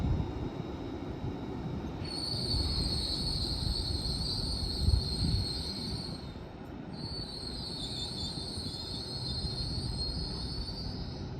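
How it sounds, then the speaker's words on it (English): An LNER Azuma train runs through York station on the East Coast Main Line with a steady rumble of wheels on rails, broken by two long, high-pitched squeals from the wheels. "It's an incredible Azuma, that one."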